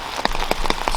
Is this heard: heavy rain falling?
yes